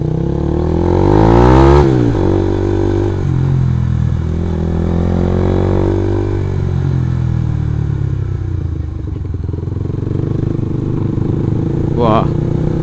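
A motorcycle engine revs and accelerates loudly nearby on a street, with engine clatter and passing traffic, while a rider talks over the roar.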